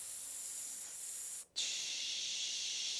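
A loud, sustained breath hiss runs steadily, dips into a brief gap near the middle, then resumes as a forceful shish exhale during a breathing exercise; no talking.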